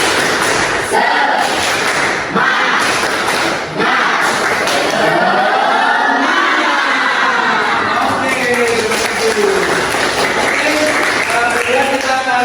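A class chanting a rhythmic clapping cheer together in unison with hand clapping, loud and close, filling a busy room.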